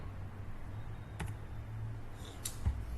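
Keys tapped on a computer keyboard during data entry in SAP, a few scattered quiet clicks heard close over low room noise, with no talking.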